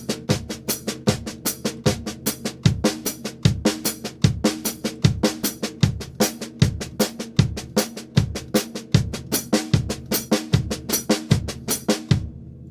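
A drum pattern repeats, accenting first the one, then the e, then the and, each accent placement played four times. Crisp hits and punchy low thumps in a steady rhythm, loud and alone.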